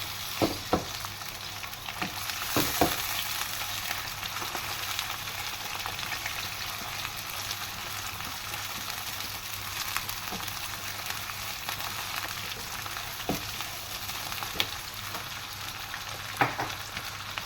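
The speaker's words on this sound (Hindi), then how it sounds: "अब मैं ये चिकन इसमें ऐड कर दूँगी और इसको फ्राई करूँगी थोड़ा सा।" Chicken pieces frying in a pan for salt and pepper chicken, a steady close sizzle running throughout with a few sharp pops and crackles and occasional stirring clicks.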